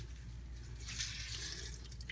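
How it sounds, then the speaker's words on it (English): Water dripping from moistened stale bread squeezed by hand for meatballs, a soft, faint trickle and patter over a low steady hum, close and quiet, no talk. "you squeeze it with your hands to get the excess water out"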